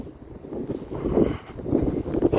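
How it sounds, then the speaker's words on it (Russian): Strong wind blows at a campsite at Lake Seliger, a rough, low rumbling roar that buffets the microphone in uneven gusts, fairly loud with no one talking. "Сильный ветер."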